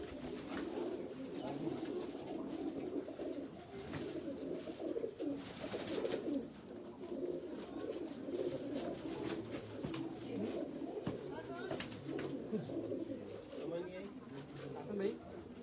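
Soft pigeon coos and flutters come from a flock being flown in an Islamabad garden, steady and moderately distant beneath murmuring voices and outdoor background noise.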